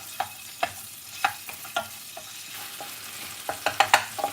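Ginger garlic paste, made from frozen garlic, hits a hot pan and sizzles softly under a series of sharp spoon scrapes and stirring knocks that speed up toward the end.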